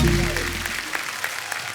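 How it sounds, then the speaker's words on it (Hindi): On a TV comedy talk show set, the studio audience greets the guests with applause. Short bursts of clapping rise over a fading musical tone. "जोरदार तालियां हमारे सब मेहमानों के लिए।"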